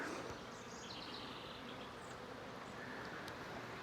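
Honey bees buzz steadily around a hive, a faint, even hum of many wings filling the whole stretch, with a few higher flyby whines passing close; no voices.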